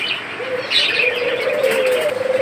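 A pair of white red-eyed doves cooing in a steady low run, with brighter chirps from other cage birds mixed in nearby, close and fairly loud.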